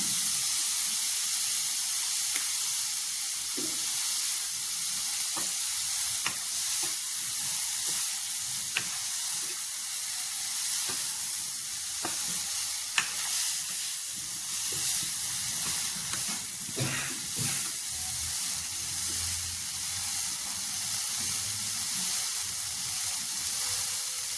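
Soya meat sizzles steadily in a pan with soy sauce, a continuous close frying hiss with scattered small pops and crackles throughout, no voices.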